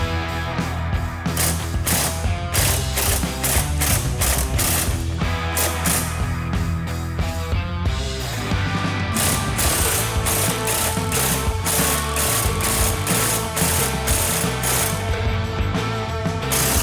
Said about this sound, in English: the 4 14mm bolts that hold the hub in place. And I'm only going to back these out about 1/4 of an inch